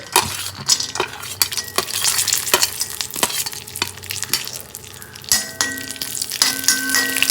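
Cashew nuts frying for jackfruit payasam: a steady close sizzle with repeated stirring scrapes and sharp metallic clinks of a spoon against the pan.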